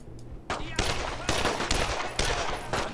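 Bursts of World War II gunfire in Brothers in Arms: Road to Hill 30, several loud close volleys of rapid rifle and machine-gun shots in quick succession.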